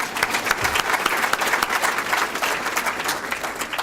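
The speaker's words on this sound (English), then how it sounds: "we could all give him a round of applause right there" An audience at a banquet keynote breaks into applause, dense continuous clapping that holds steady from start to finish.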